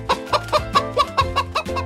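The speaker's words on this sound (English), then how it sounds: "It is a hen." A hen clucks in a run of about eight short, rhythmic calls, close and clear, with no talking over it.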